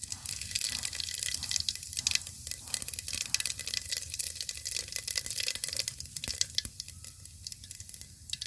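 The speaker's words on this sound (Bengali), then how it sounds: "দিয়ে দিচ্ছি গোটা সাদা জিরে।" Whole cumin seeds crackle and sizzle in hot oil for a chicken curry, a dense, loud, continuous frying hiss with sharp pops throughout, close up and without speech.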